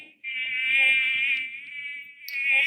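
Flies in a mating jar in virtual lab software, rendered as a continuous high, thin buzzing drone that wavers slightly, briefly dips and then resumes.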